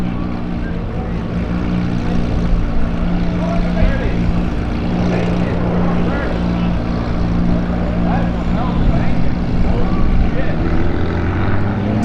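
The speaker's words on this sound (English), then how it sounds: "So that right there is the C-130. Workhorse of the United States Air Force." A Lockheed C-130 military transport aircraft drones overhead, a loud, steady low propeller rumble that holds throughout while people talk nearby.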